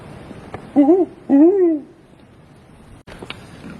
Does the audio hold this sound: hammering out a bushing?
no